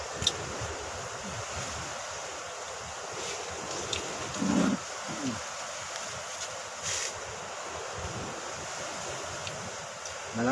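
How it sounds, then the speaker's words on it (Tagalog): Strong sea waves driven by the amihan wind wash steadily at a shore in a continuous broadband roar, with wind buffeting the microphone and a few brief bumps, and no one talking. "Malakas ang alon mga kaparts"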